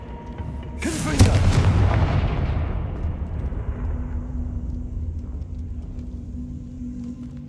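A Confringo fire-spell blast in the Hogwarts Legacy video game erupts as one loud, booming explosion, then rumbles and crackles away slowly over several seconds with no talk over it.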